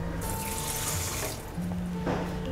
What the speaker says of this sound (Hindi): चीनी का 1/2 पानी डालेंगे।